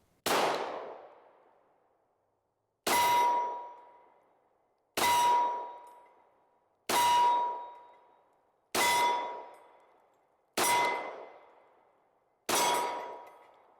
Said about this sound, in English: This is plus P 45 ammunition that I'll be shooting through it.